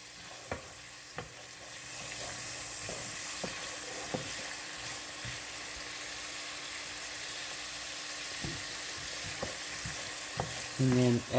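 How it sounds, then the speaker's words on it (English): Onions sautéing in a pot for beef stew give a steady, soft sizzle, with occasional stirring clicks and a louder scrape at the end, no talking. "So just get the onions sauteed a teeny bit."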